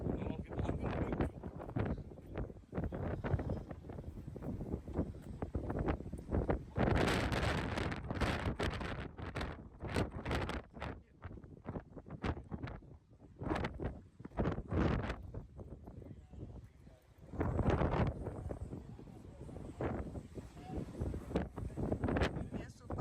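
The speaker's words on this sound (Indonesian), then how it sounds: "Anginnya super kencang guys." Strong wind on Santorini island buffets the microphone in heavy rumbling gusts that rise and fall throughout, loud and close, with talking partly masked beneath.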